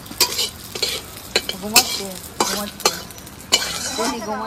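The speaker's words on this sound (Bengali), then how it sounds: "জিরে শুকনো লঙ্কা একসঙ্গে ভেজে নেবো" Whole cumin and dried red chillies frying together in hot oil in a village kitchen, a sizzling hiss broken by several sharp scraping stirs of a spatula against the pan, close and fairly loud.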